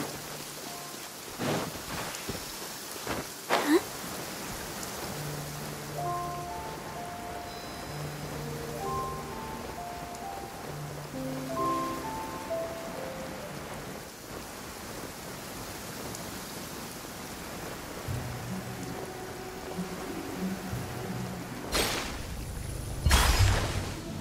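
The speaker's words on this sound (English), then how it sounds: "Don't stay out in the rain for too long." Rain falling in the video game Genshin Impact, a steady soft hiss throughout with gentle game music notes drifting over it and a few sharp cracks near the start and end.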